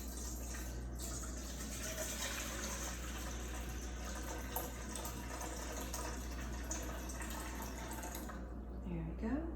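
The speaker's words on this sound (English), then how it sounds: "I'm gonna put 750 grams of water in here." Water is poured into a bowl set on a kitchen scale while mixing sourdough country bread dough at 75% hydration: a steady pouring rush under a low constant hum, ending with a few small splashes.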